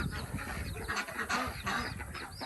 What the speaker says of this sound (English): Bad little birds.